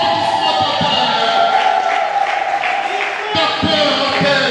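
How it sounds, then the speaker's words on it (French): Sustained applause and cheering from the audience at a doctoral thesis defence, a steady crowd roar with a few louder claps near the end while a speaker talks over it through the hall. "Applaudissements total."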